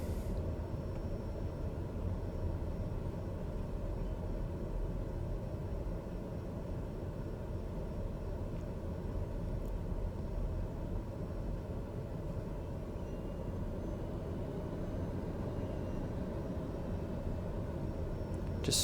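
A TBM 930 turboprop taxiing in Flight Sim World gives a steady, low, even engine drone that holds unchanged throughout, with no speech over it.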